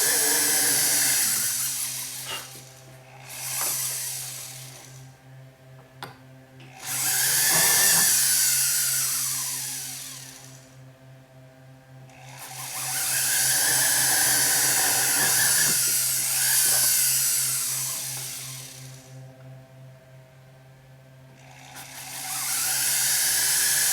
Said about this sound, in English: Okay, so I'm using a 1mm drill bit. I'm just going to go through each one of these holes.